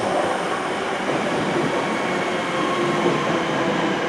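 A train pulls in at a platform of Stockport station, a steady loud broadband rumble and rolling noise sustained throughout with no voices.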